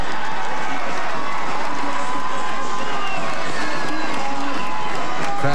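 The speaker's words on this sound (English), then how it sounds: "Crowds cheering them all home here" A roadside crowd cheers Tour de France riders home at the finish of a 2013 stage, a steady dense roar of voices and shouts, loud and continuous, with a commentator talking over it.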